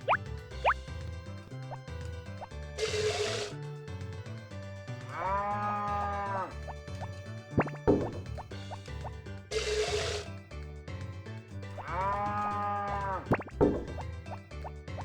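Cows moo twice in the farming game Harvest Moon: Back to Nature, drawn-out lowing calls several seconds apart over a plinking game melody, with no talk.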